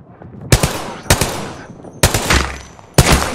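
Gunfire from the video game Apex Legends: four sharp, loud shots spaced roughly half a second to a second apart, each with a quick decaying tail and some low rumble underneath.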